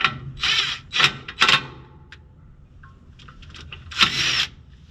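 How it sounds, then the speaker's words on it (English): Impact wrench on a rusted bolt of a John Deere 3020 tractor, firing in short, loud hammering bursts with pauses between, struggling to break the bolt free. "impact wrench is kind of stuck."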